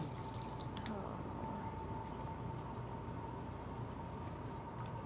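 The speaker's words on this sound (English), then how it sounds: "Let's do the actual water splashing, shall we?" Water splashes and drips quietly and steadily in Life is Strange, a soft continuous liquid wash with a thin tone held beneath it and no clear peaks.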